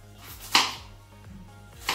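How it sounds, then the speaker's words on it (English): Vegetables for Nigerian abacha are chopped with a knife on a board, producing a few sharp, close cuts spaced irregularly, with a low background hum and no talking. "I'm gonna chop these ones."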